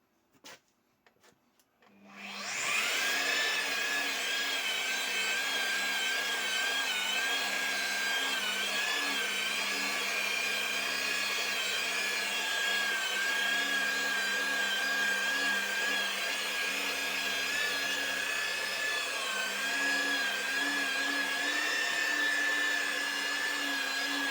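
Power sanding machine running at its third speed on acrylic paint: after a few quiet knocks it starts up and holds a loud, steady high whine with a constant hum and no pauses.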